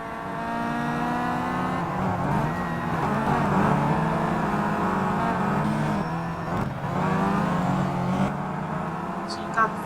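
Touring race cars in the Simraceway sim racing game roar through the Sonoma Raceway circuit, with a steady, dense drone of engines that rises and falls slightly as they pass, under continuous race commentary.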